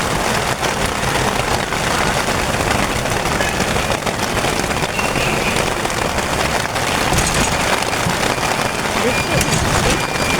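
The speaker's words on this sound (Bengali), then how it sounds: "বাইরে যে বৃষ্টির ঝমঝম আওয়াজ" Heavy rain pours outdoors on a street, a dense, loud, steady roar of drops hitting surfaces throughout, with people talking underneath.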